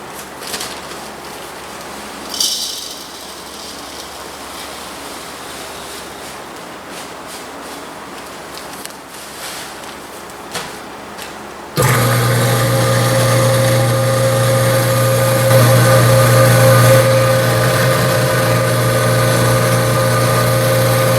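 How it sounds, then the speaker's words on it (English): A grain mill grinds grain into flour for homemade bread. After quiet room sounds with a few light knocks, a loud, steady, droning motor roar starts partway through and runs without a break to the end. "So I'm going to go ahead and grind all of this up"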